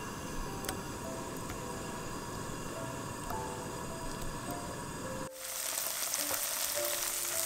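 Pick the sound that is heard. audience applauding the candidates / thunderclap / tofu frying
tofu frying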